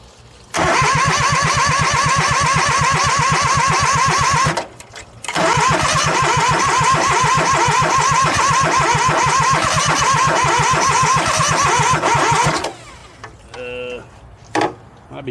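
A Kubota tractor engine cranks and churns with a rapid, loud, steady rhythm, pauses briefly, then cranks again for a long stretch without catching, before falling quiet with a few faint clicks.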